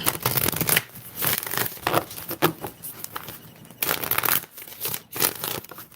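A deck of cards being shuffled repeatedly up close, crisp riffling bursts with short pauses between them.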